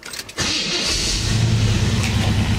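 A 1940 Chevrolet Custom Convertible engine cranks briefly and catches, then settles into a steady, close, loud idle with a low rumble, with no talking.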